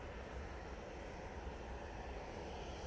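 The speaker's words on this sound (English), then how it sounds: "We've got an Easyjet coming out." EasyJet airliner departing Manchester Airport, a steady low jet rumble at a distance, faint and continuous for a few seconds.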